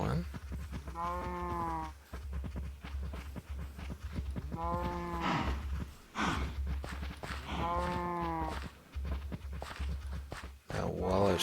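Cattle mooing in the Minecraft video game: three long, loud, harmonic moos spaced a few seconds apart over a steady low game hum, with light footstep clicks in between.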